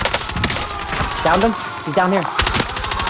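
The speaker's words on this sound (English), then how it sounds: "someone's shooting in Petty's building" Rapid bursts of gunfire in the video game Call of Duty: Modern Warfare, with repeated shots crackling through the clip while players talk over the action.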